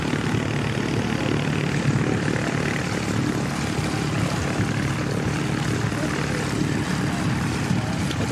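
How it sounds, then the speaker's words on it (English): Propeller training aircraft at Christchurch Airport, several engines starting and running together as a continuous droning buzz with a steady roar, sustained and moderately loud. "The first wave of the training aircraft are heading out. So we've got what, 1, 2, 3, 4, 5 trolleys are starting up."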